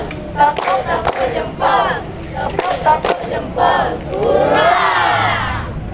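A group of people clapping in quick bursts amid crowd shouts and cheering, with voices calling out between the claps, during a floor gymnastics lesson.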